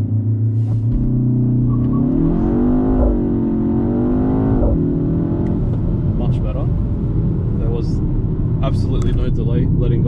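A 2024 BMW X1 M35i pulls away under launch control with a loud engine rising in pitch over a few seconds and then settling, recorded from inside the car with a person talking over it.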